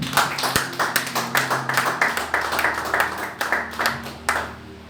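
A church congregation claps rhythmically in acclaim during a French sermon on justification, with steady, closely spaced clapping beats running throughout. A low hum sits underneath.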